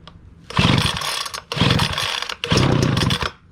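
A brand-new Homelite 2-cycle gas blower/vac engine catches on the pull, firing in three loud, close bursts of raw two-stroke buzz separated by brief drops as it stalls and restarts.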